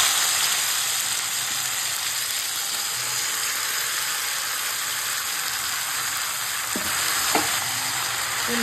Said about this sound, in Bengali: তেল দিয়েছি, তেলটা গরম হয়ে গেছে। এখন দিয়ে দেবো কালো জিরে, এবার দিয়ে দেবো মাছটা।